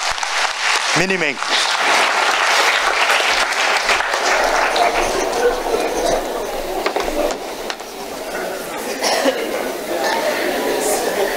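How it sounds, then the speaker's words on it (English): Loud, sustained applause fills a hall at an Islamic talk, a crowd clapping continuously throughout with a brief voice early on and murmurs beneath. "Big round of applause for Muhsin"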